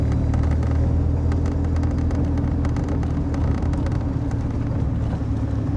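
A 1986 Alfa Romeo Spider Veloce 2.0 classic roadster drives on country roads, with a steady low engine drone and road rumble heard from inside the car at even loudness, and no talking.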